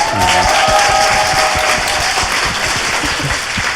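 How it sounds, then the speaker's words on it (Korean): Loud, dense applause from a studio audience at a Korean political talk show, a sustained roar of clapping that fills the whole stretch, with a voice faintly heard at the very start. "누가 먼저 얘기하셨는지 박수 한번 부탁드립니다."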